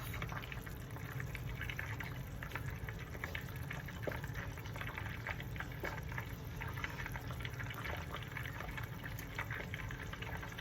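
Butter browning in a pan on the stove, a steady dense sizzle and fine bubbling that holds at an even level throughout with no voices.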